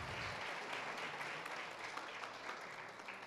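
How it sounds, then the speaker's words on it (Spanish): Applause from a seated audience at a product presentation in Mexico, a steady dense wash of clapping that holds at an even level throughout, fairly faint and without any talk over it. "Eso merece un aplauso, ¿o no?"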